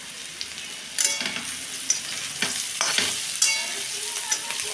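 Cauliflower pieces frying in a pan for a vegetarian dish, a steady close sizzle broken by several louder scraping stirs of the spoon, with no voices.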